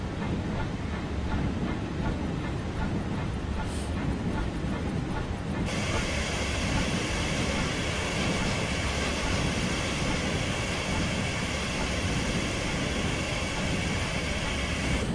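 A model train runs in the Train Simulator 2016 game on the Onehouse model railway, giving a steady, loud rolling rumble with hiss throughout and a brighter high-pitched whine joining partway through.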